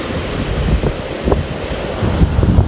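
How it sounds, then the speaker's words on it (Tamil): Strong cyclone wind roars across the beach at Point Pedro, with crashing surf and heavy microphone buffeting, loud and continuous with gusty surges and no voices. "காற்று பயங்கரமாக அடித்து கொண்டே இருக்குது"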